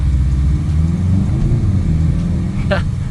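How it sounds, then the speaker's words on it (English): A low, steady engine rumble heard from inside a 2022 VW Golf 8 GTI as it launches hard to 60, with a brief higher squeak near the end. "Quick launch to 60."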